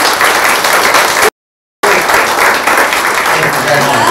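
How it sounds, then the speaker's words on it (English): A large audience gives a warm round of applause for a guest speaker at a public event. The dense, continuous clapping cuts out abruptly for about half a second, then resumes just as strongly. "please can we all give a huge round of applause for Brad"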